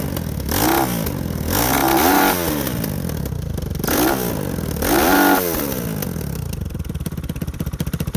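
A Lifan KP Mini 300 small motorcycle engine with an upgraded carburetor, revving up repeatedly in several swelling bursts over a steady, rough idle, loud and close.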